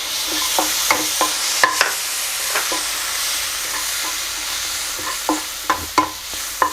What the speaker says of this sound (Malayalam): ഒരു തക്കാളി ചെറുതായിട്ട് അരിഞ്ഞിട്ട് അത് നമുക്ക് ഇതിലേക്ക് ചേർത്ത് കൊടുക്കാം